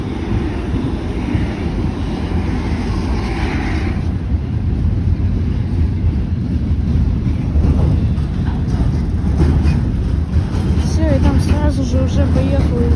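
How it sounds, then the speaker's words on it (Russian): A 2ES6 Sinara electric locomotive passes in a steady, loud rumble of wheels and traction noise with wind buffeting the microphone, the roar holding throughout and light squeals and clatter rising near the end. "Уже поехал другой поезд."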